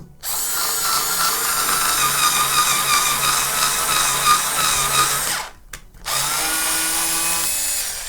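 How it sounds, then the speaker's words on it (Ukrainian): A WMC Tools 20110 cordless screwdriver fitted with a kit drill bit bores into wood, a loud, steady whirring drone that cuts out briefly near the end before starting up again. "Не знаю, як метал, а якусь дерев'яшку за її допомогою точно можна буде просверлити"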